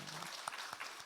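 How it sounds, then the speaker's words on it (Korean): A church congregation claps together during a Sunday morning service, a brief burst of steady, moderately loud applause with no talking over it. "박수 한번 쳐줘요"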